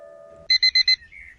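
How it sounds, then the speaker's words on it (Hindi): An alarm clock set for 7 am in a bedroom rings as a story sound effect: a steady low tone, then four loud, evenly spaced electronic beeps close up, followed by a softer trailing tone, with no one speaking. "नींद के आगोश में घिरी सांवरी ने आंखें बंद किए हुए ही अलार्म भी बंद कर दिया"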